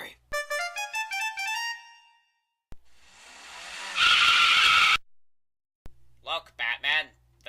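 A car in the Lego Batman video game skids away with a loud, sustained tire squeal lasting about a second, set among game music and short character voice bursts before and after.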